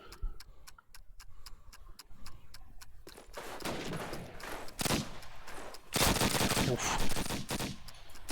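Gunfire in a competitive first-person shooter match on the Railyard map, with rapid bursts of shots and sharp single cracks, including a headshot, building to denser firing toward the end.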